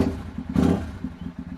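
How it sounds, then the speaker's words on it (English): A motorcycle engine with a failed clutch idles up close while warming up, its uneven, chugging pulses swelling briefly into a louder burst before settling back. "Let me try and see if I can get this engine a little bit warm so it won't die anyways."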